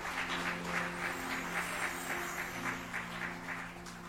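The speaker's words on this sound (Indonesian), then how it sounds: "Berikan tepuk tangan lebih keras lagi." A church congregation claps hands in a steady rhythmic beat, soft and somewhat distant, with a sustained musical tone running underneath throughout.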